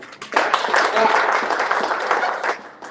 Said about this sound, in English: Clap for them. Everybody will clap.